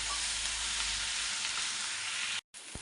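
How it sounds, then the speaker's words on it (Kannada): Leafy greens sizzle and fry in a pan for a lentil-and-greens sambar, a close, steady hissing crackle with soft stirring, cut by a brief silence near the end. "ಈಗ ನಾವು ಕೂತ್ಕೊಂಡಿರೋ ಸೊಪ್ಪು ಅದನ್ನು ಹಾಕೋತಾ ಇದ್ದೀನಿ"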